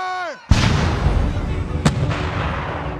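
Cannon of an artillery battery firing at the siege of Fort William Henry: one loud, close boom with a long rumbling tail, followed by a second sharper crack about a second and a half later.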